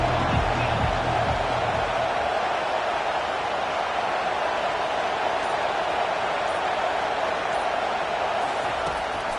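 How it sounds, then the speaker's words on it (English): A football stadium crowd on third down keeps up a loud, dense, unbroken roar of massed voices that stays near-constant throughout. "Decibels rising as the crowd gets behind this defense on third down"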